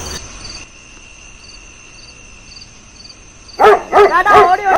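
Several sharp dog barks ring out near the end of a quiet night scene, sounding close and loud, following a steady background chorus of chirping crickets.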